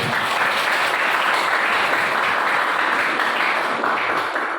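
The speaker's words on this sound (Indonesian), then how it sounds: "kita berikan tepuk tangan kepada" An audience in a classroom applauds after a group presentation, dense and steady clapping from many hands at close range, sustained for several seconds without a break.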